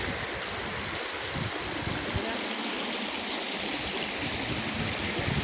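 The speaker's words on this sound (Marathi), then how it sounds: "हा ओढ्याचा किनारा" A stream flows beside a Mahadev temple under renovation in Pusegaon, a steady broadband rush of water continuing unbroken throughout.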